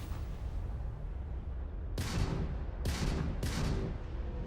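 Shots fired at a spaceship in a space video game: three loud, sharp blasts in quick succession over a steady rumbling engine drone, with no talk.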